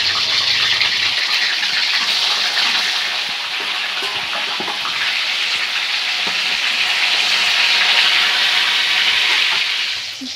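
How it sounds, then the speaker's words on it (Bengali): Fish coated in salt and turmeric fry in hot oil in a wok, a loud, steady hiss and sizzle that holds for the whole stretch without a break. "তেলটা গরম হয়ে গেলে আমি মাছগুলোকে ভাজা করতে দেবো"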